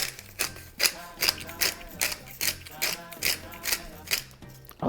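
A pepper mill grinds pepper into pancake batter in a rapid run of about ten regular ratcheting cranks, close and crisp, with no talking.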